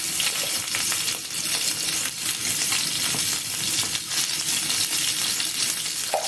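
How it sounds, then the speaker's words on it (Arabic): Garlic and cumin fry in oil in a pot, a steady dense sizzle with crackling texture, close and continuous, no voices. "ابدا بقى احمرهم مع بعض كده. الثوم، الكمون"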